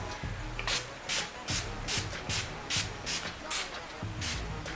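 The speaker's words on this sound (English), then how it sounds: "now I'm going to spray with my Makeup Forever Mist and Fix spray." A series of short, hissing bursts of Make Up For Ever Mist & Fix setting spray repeating at a steady rhythm, close and fairly quiet, with faint rubbing underneath.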